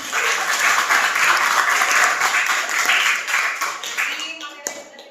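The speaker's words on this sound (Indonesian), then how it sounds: "Boleh beri aplaus untuk Safa." Students in a classroom give a fellow student a round of applause, dense steady clapping that fills the space for several seconds, then thins out and fades toward the end.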